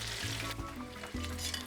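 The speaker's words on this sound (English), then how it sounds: "we're just going to let those sizzle away here until they're nice and golden" Chicken wings sizzle in a frying pan, a faint, steady crackling hiss with a low hum beneath it.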